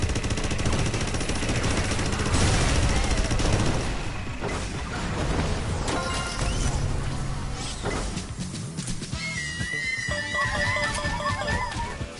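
Shots fired at a UFO in the VR game Astro Bot make rapid, rattling bursts of gunfire with booms over game music, dense and loud through the first half and then thinning out, with electronic blips toward the end.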